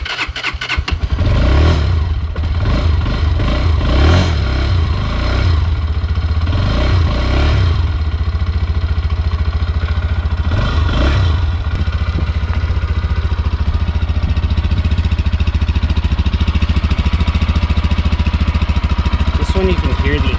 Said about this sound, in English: You can hear the engine a lot more.